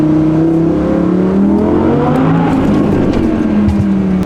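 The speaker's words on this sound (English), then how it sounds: "If you've got a car with loud exhaust, you got to get on it under every bridge." A loud car engine with loud exhaust roars and climbs in pitch as it accelerates hard under a bridge, the booming exhaust echoing heavily around it, no voices.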